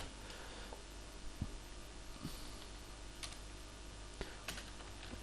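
Soft, quiet keystrokes on a computer keyboard while C code is typed, irregular clicks spaced out over a faint steady background hum, with no talking.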